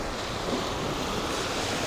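Ocean surf at a beach: a continuous broadband wash of waves, loud and steady and close by, with wind noise on the microphone and no voices.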